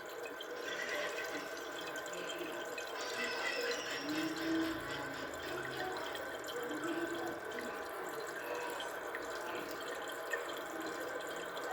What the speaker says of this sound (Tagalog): Dito pala, naglalagay siya dito ng tubig. Yan. Yan o, tumaas ang tubig.